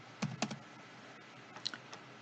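Several soft keystrokes on a computer keyboard while a file name is entered in drafting software: a quick pair of taps, a pause, then a few more light clicks, quiet and close with no talking.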